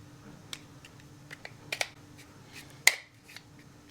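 Magazine release on an M9 pistol fitted with a Tyrant Designs CNC gold conversion, several light metallic clicks followed by one sharp, close snap as it seats.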